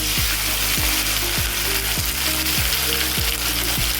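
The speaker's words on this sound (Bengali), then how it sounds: "তেলটা অলরেডি গরম হয়ে গেছে আর আমি চিংড়িগুলো এখন দিয়ে দেব" A steady, loud sizzle of prawns frying in hot oil, with a repeating rhythmic clicking running through it and no voices.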